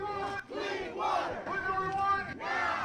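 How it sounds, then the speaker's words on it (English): A crowd of protesters outside the Capitol in Lansing, chanting and shouting together in loud, sustained bursts with short pauses between them. "Last night in Lansing, a crowd gathered outside the Capitol demanding Governor Snyder resign for his role in the crisis"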